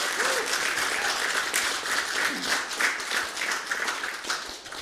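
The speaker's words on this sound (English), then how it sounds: "I think that deserves a round of applause." An audience at a saxophone quartet concert gives a sustained round of applause, dense, even clapping that fills the room at moderate volume without talk.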